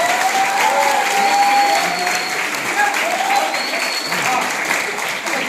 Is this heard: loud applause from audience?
yes